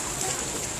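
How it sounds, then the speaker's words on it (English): Very heavy rain pours hard during a school day in California, heard from under an umbrella as a dense, continuous hiss of drops with no pauses. "it is raining like very hard right now"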